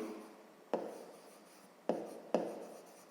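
Pen or pencil writing by hand on paper while working a grade-5 math division exercise, a close steady scratching with three sharper taps as new strokes begin, no talk.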